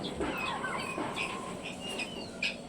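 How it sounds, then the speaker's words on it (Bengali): Backyard chickens clucking nearby, several short soft clucks and higher calls scattered over a few seconds against a steady outdoor background. "মুরগিগুলোকে কটা খাবার দেবো আমি গম দেবো"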